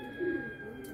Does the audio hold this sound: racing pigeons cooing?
yes